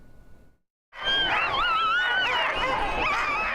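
Sled dogs at the starting line of the Can-Am Crown sled dog race in Fort Kent, Maine, bark, yip and whine in a loud, continuous clamor that bursts in after a brief near-silence and carries on to the end.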